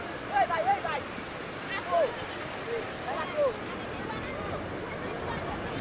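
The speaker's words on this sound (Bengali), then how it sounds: "বিশাল বিশাল ঢেউ, পানির শব্দ তো শুনতেই পারছেন" A steady roar of surf and big waves crashing on the beach at Cox's Bazar, Bangladesh, fills the air, with a few faint voices calling out briefly over it.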